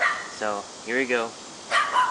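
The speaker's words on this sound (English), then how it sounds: "I'm sorry about the dog, it's my neighbor's dog." A neighbor's dog barking and yipping outdoors in several short bursts, moderately near, with someone speaking briefly over the barks.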